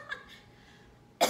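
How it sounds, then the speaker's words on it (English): A single sharp cough near the end, close and abrupt, after a few faint indistinct sounds and near silence. "Do you think somebody has a cough?"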